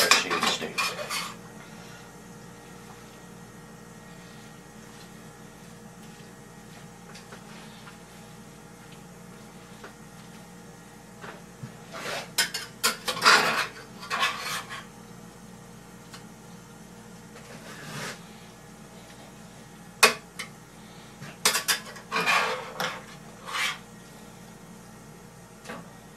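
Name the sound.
shaved steak flipped with a spatula in butter in a pan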